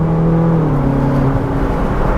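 A Ferrari engine revving and pulling hard while accelerating through Miami streets, a steady loud drone with a rising then falling tonal note, close and continuous with no talk over it.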